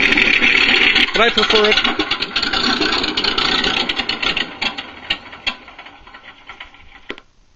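A MrRCSound V4 RC engine sound module plays a steady, loud simulated engine idle that slowly fades while someone talks over it.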